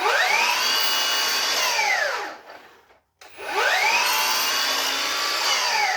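A miter saw plunge cut, loud and close: a high blade whine spins up, bites through the wood, winds down to near silence, then a second cut follows with the same rising and falling pitch.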